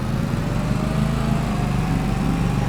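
Lawn mower engine running steadily at close range while the mower is driven off a trailer, a continuous low rumble with a droning tone and no pauses.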